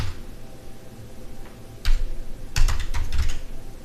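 Fingers type a search term on a computer keyboard, producing soft key clicks that become two quick clusters of sharper taps in a quiet room.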